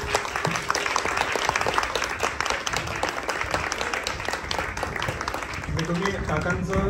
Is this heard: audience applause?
yes